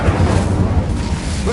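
A fire spell erupting in the Hogwarts Legacy video game, a loud, rumbling low burst like a fiery explosion that holds steady for over a second, with talk faintly under it.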